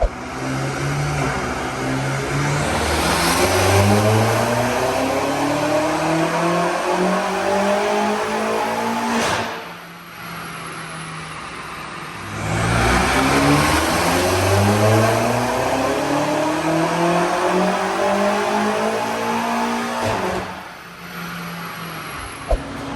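A tuned car engine revs hard on a dyno through two long sweeping pulls, climbing steadily in pitch before dropping off, loud and close, with a short lull between runs.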